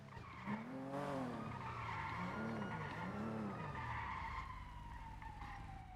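Game cars in NoPixel skid with wavering tire squeals over a continuous engine roar, loud and close, a high siren-like tone sliding down near the end.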